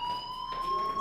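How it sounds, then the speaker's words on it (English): A steady electronic fire alarm tone blares continuously inside the video game Life Is Strange, loud and unbroken with no speech over it. "do you hear that fire alarm?"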